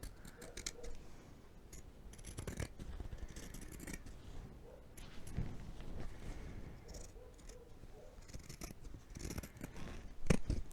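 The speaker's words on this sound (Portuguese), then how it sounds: "vou recortar uma perna aqui pra vocês verem" Scissors cutting fabric for a large cloth doll pattern, quiet repeated snipping and crunching blade closes at an uneven pace, close up with no talk.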